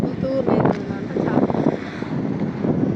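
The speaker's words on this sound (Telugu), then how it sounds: "బాగా గాలి బల వస్తుంది చూడండి." Strong wind buffets the microphone at a river barrage on the Penna river, a steady blustery roar with water noise beneath and faint voices mixed in.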